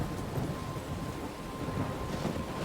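A thunderstorm in the video game Life Is Strange, set in a forest, with a dense, continuous roar of rain and low rumbling thunder filling the scene without a break.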